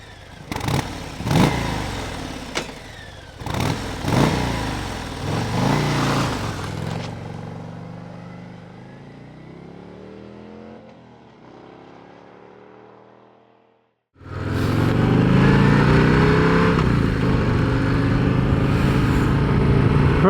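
A 2025 Harley-Davidson Heritage Classic motorcycle rumbles while riding, with sharp blips and revs early on, then a long fading deceleration and near quiet, before the engine roars back in strongly and holds a loud, steady drone.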